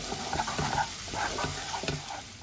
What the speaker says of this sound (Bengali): এবার মিক্স করে 1 মিনিট কষিয়ে নেব।